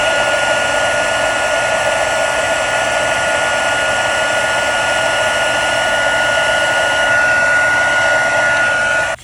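Heat tool blowing hot air to heat set embossing on a handmade card, a steady, loud whirring hiss running continuously for about nine seconds before cutting off.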